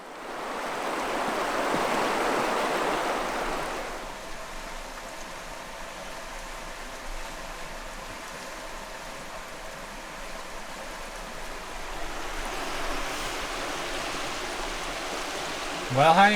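Steady rushing of a stream running beside a roadside camp spot in Alaska, a continuous broadband wash that swells louder at the start and again near the end, heard close and without talk.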